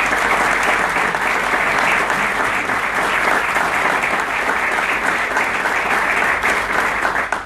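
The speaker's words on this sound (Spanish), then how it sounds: "esta historia merece el reconocimiento con el aplauso de todos ustedes" Sustained applause from the audience at a ceremony marking the 30th anniversary of a lawyers' association, dense even clapping throughout without speech.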